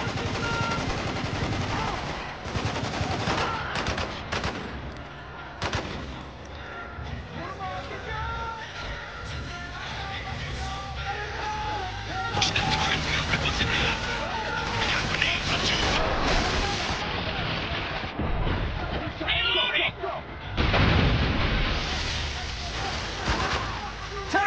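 Heavy gunfire and artillery in the video game Spec Ops: The Line, with dense, loud automatic bursts and booming blasts sounding almost continuously while a player talks over the battle.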